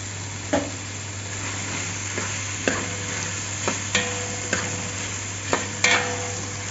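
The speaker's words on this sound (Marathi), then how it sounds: "टोमॅटो पण चांगले परतून घ्यायचे आता मी वांगे टाकते" Brinjal sautéing in a pan with tomatoes, a steady low sizzle broken by several sharp clinks and scrapes of a spoon stirring, close up with no talking.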